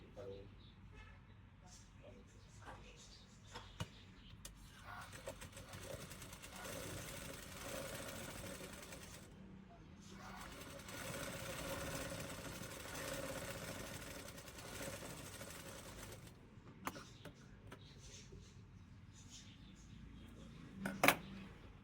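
A sewing machine stitching tucks into a blouse gives a sustained mechanical whir that rises and holds for several seconds in the middle, with quieter handling and a few sharp clicks around it and a person talking nearby.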